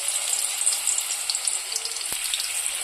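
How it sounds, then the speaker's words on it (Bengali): A pan frying at close range gives off a continuous bright, hissing sizzle with busy crackle. It holds steady throughout, with one short sharp knock near the end and no voices. "এরপর হচ্ছে আমি আলুগুলোকে ভাজবো।"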